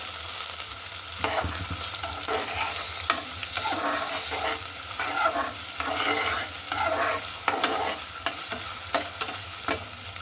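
Small freshwater fish with slit green chilies lightly frying in a pan, a constant sizzle broken by frequent scraping and tapping strokes of a stirring utensil, close and fairly loud, no talk.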